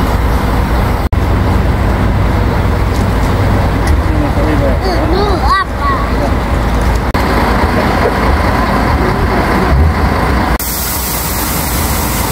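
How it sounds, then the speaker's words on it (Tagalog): Loud, steady road traffic and the engine rumble of a large bus run throughout, with a brief clunk near the start. A person talks over the noise. "Ito yung malaking bus na sasakyan namin."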